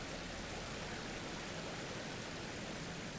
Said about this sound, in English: again, lovely water sound